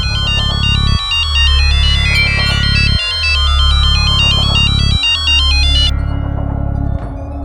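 A mobile phone rings with a loud, close electronic ringtone, a bright repeating melodic pattern in regular cycles of about two seconds that keeps going unanswered, with no voices.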